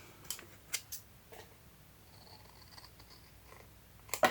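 Scissors snip through paper for a library pocket craft, a few sharp, close cuts spaced apart with soft rustling and faint handling noise between them.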